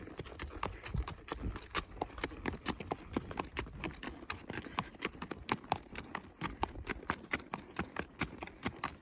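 Rapid, steady hoof clip-clops from a horse, dense rhythmic hits close by and fairly loud, running continuously without pause.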